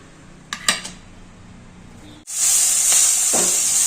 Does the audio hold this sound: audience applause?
no